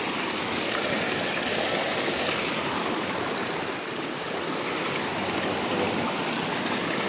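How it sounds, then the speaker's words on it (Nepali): Water running along a rural village path in Nepal, a steady, fairly faint rushing wash that continues evenly without pause and with no talk. "बाटोमा नै पानी आइरहेछ।"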